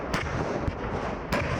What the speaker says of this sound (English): The PZH-2000 armoured howitzer.